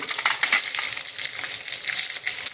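Mustard seeds and urad dal fry in hot oil with dense crackling and popping, close and busy throughout with scattered sharp pops, no voices.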